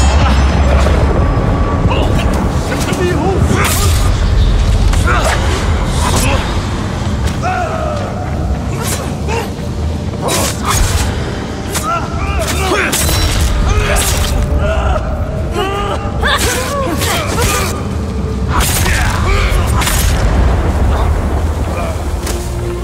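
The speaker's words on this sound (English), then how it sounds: "That's all of them. Fireworks!" Repeated booming bursts and crackling pops of fireworks in the video game Ghost of Tsushima fill the scene over a continuous rumble, with shouting voices mixed throughout the loud, busy din.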